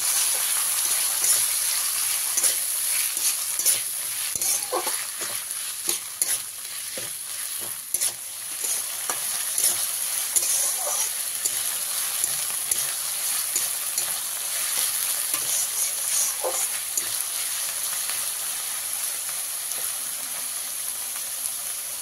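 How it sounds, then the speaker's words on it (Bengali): Medium-sized onions, finely chopped, sizzle and fry steadily in hot oil with ginger and garlic, with stirring scrapes throughout; a loud, continuous hiss holds for the whole stretch with no talking. "পেঁয়াজটা দিয়ে এবার ভালো করে ভেজে নেব।"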